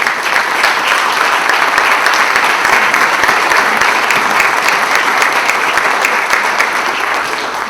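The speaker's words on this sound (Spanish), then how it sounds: "el aplauso no es solo para nuestros expositores" Sustained audience applause at a university communication panel on the country after the campaign, a dense, steady clapping from a full room that holds evenly loud for the whole stretch.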